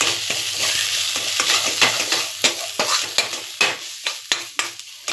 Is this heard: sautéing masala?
yes